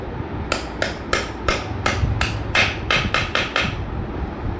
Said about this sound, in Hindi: तो आप जो ये पिन होती है इस पर हथौड़ी की मदद से हल्की सी चोट लगा लें।